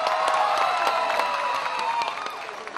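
An indoor crowd applauds and cheers for a band's bass player, steady clapping with scattered whoops that slowly fades out.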